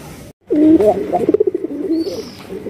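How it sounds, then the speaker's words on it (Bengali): Red Raj Golla pigeons coo close by in a repeated, throaty, pulsing call lasting a couple of seconds after a brief pause, with a faint high chirp briefly overhead. "ডাকের রাজা রাজগোল্লা কবুতর রেড কালারের মধ্যে।"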